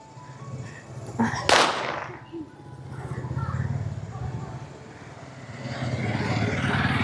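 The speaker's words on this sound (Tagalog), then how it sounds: "May paputok." A single sharp firecracker bang pops nearby amid street noise in Kathmandu during the festival of lights, followed by traffic and engine rumble with people talking in the background.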